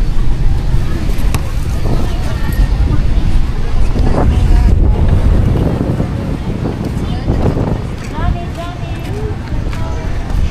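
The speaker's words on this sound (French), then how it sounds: "il y a vraiment du vent." Strong wind buffets the microphone in loud, continuous gusts on a street in Dumaguete, Philippines, with engine rumble and voices mixed underneath.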